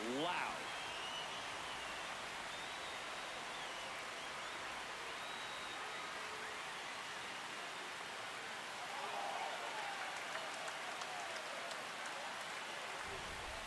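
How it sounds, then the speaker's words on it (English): Stadium crowd in MLB The Show 26, Tigers at Red Sox at Fenway, roaring in a steady, loud wash of cheering that swells slightly toward the end, with a voice briefly heard over it. "This crowd is really coming."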